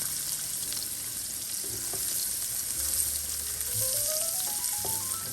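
Butter sizzling with garlic in a hot pan, a steady broad frying hiss carrying on throughout at moderate level with faint clinks and a rising tonal whistle in the background.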